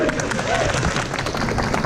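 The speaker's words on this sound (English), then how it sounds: "Give a round of applause." A live audience at a BlizzCon 2016 voice actor stage comedy show breaks into dense, continuous applause, loud and close, with crowd voices mixed in.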